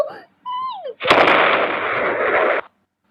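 A safe blown open in a house-raid video game: after a brief tonal game sound, a loud, close explosive burst erupts and holds as a dense roar for about a second and a half before cutting off abruptly.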